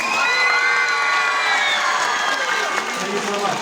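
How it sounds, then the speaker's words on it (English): A live audience at a BFDI tour Q&A session applauds and cheers loudly and continuously, with kids' high shouts and whoops riding over a dense wash of clapping. "can we get a final round of applause for these guys?"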